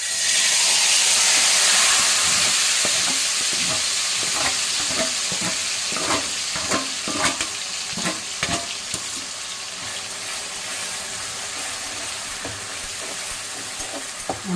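Ground masala paste frying in hot oil for a crab gravy, a loud continuous sizzle and hiss with irregular spoon scrapes and stirring clatter that gradually settles into a steadier, slightly quieter crackle.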